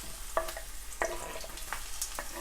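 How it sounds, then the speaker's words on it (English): Finely sliced onions frying in hot oil give a quiet, steady sizzle, broken by a few brief stirring scrapes and clicks. "And then I'm just gonna add in these finely sliced onions."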